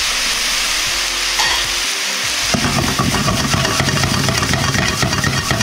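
Black fried rice sizzles and crackles as it is stir-fried in a wok with soy sauce sauce, the wok shaken up and down; loud, dense frying noise rising sharply partway through and continuing steadily.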